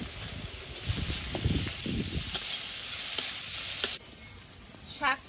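Dry red chillies and chopped garlic fry in hot oil in a pan, giving a loud steady sizzle with stirring scrapes. The sizzle drops off sharply near the end, followed by a brief faint clink.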